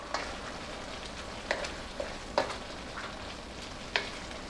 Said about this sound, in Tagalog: Hahaluin muna natin ito